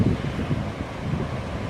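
A nighttime sea storm on the Turkish coast near Tekirova blows loud, continuous wind that buffets the microphone, with waves up to three meters surging and breaking beneath it, heard from a balcony with no voices.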